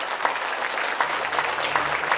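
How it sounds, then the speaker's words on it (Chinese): Warm applause from the audience at an award ceremony for Kaohsiung's ten outstanding citizens, a steady crowd of clapping hands heard at moderate distance, with a faint low tone running beneath. "please give the big warm applause for the team"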